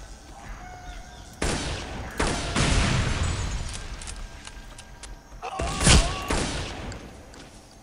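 Loud shotgun blasts in Counter-Strike: Condition Zero, several sharp reports spaced a few seconds apart, each with a brief crashing decay, over steady game ambience.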